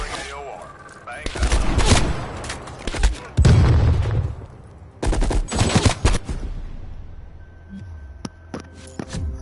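Call of Duty multiplayer battle on PS5 erupts with bursts of rapid machine-gun fire and heavy booming artillery explosions, loud and close, alternating with quieter gaps and a voice speaking over the combat.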